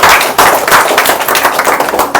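A seminar crowd in Bhager, Bilaspur, Himachal Pradesh claps loudly. Many hands sound at once in a dense, continuous burst of sharp, close claps with no pause.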